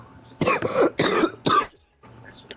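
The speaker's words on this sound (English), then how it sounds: "There ain't no way you didn't start coughing." Several harsh coughs from one person in quick succession, close and loud, then a brief pause and a quieter throat noise at the end.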